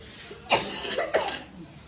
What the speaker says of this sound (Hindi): खांसी लगी हुई है?